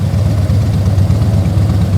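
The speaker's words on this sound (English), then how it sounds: "he's revving it too much" A motorcycle engine runs at a steady, loud, close drone during riding practice with right-hand turns, holding an even low rumble without distinct rev peaks.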